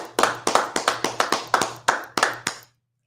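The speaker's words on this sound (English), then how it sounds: "Clap it up." Single person clapping hands about eleven times at a steady, slightly uneven pace in a quiet room, each clap crisp and close, ending abruptly in silence.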